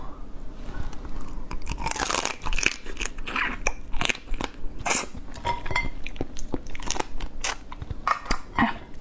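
Close, steady crunching and chewing of crab shell and meat, dense crackly bites repeating throughout with faint clinks of dishes or utensils, no talk.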